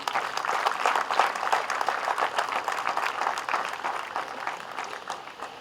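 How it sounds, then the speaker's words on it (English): Sustained applause from a graduation ceremony audience, a dense steady clatter of many hands clapping that fills the space and tapers slightly toward the end. "let's give a thunderous applause to celebrate these young men and women"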